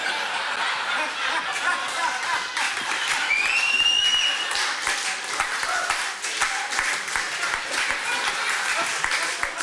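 An audience at a variety show anniversary event claps steadily in sustained, dense applause, with scattered chuckles and a voice or two mixed in.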